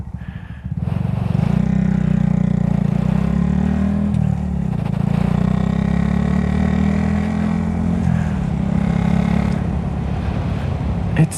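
A small Honda Grom motorcycle is ridden through traffic, its engine note a loud, steady buzzing drone with slight rises and falls in pitch as the throttle shifts, heavy wind rumble underneath and no talking.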